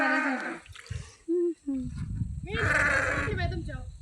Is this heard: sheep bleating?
yes